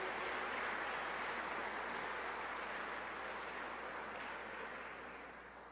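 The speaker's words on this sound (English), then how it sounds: "Can we give them another round of applause" Applause at a church ministry gathering, broad and steady at first, then slowly thinning out and fading toward the end, quiet and distant overall.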